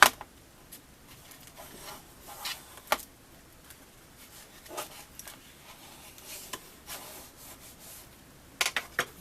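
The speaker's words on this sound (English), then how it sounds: "And we'll fold it back up and burnish it again." Folded paper craft pieces are burnished by hand, with soft, intermittent rubbing and scraping strokes, close and fairly quiet, in irregular bursts with pauses between.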